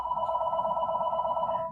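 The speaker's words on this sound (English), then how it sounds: "You got a phone call" A telephone rings steadily with a bright, sustained electronic bell tone over the whole moment, fairly loud and close, with faint background murmur beneath.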